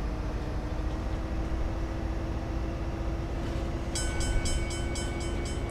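In the video game Bus Simulator 18, a train runs along a railway, its rumble steady and loud before a repeated horn blast sounds several times near the end.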